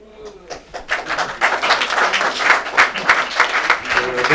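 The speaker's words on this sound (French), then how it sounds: "Hold your applause, there's more." Audience applause at a talk on BDS and liberation struggles swells from scattered claps into a loud, dense ovation, close and full, with faint voices mixed in.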